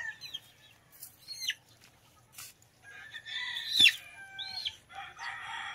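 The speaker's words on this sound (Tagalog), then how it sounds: "papakita ko sa inyo yung sisiw" Gray gamefowl chicks peep and chirp in high, sweeping calls, with brief clucks and some wing flutter, close by and fairly soft, with no talking.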